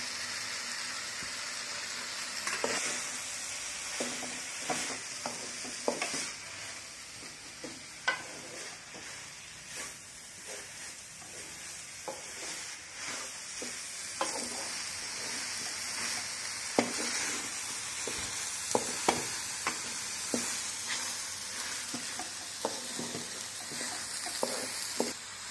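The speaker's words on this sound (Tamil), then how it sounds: "அரை முடி தேங்காய் திருவலையும் சேர்த்து வணக்கிக்கலாம்." Beetroot chutney with grated coconut sizzles steadily in a pan, with frequent scraping stirs and small clinks of a spoon over the continuous frying hiss.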